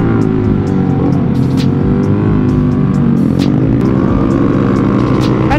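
Loud motorcycle engines revving hard at close range during a Sunday morning group ride near Bogor, a continuous roaring drone with rising and falling throttle pitch.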